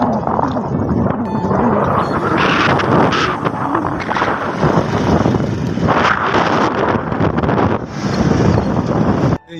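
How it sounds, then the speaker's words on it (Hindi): Strong storm wind buffeting an outdoor microphone during hot weather, loud continuous roaring gusts that swell and ease, with a brief drop at the very end. "ये देखें, बहुत बड़ा ये तूफान है"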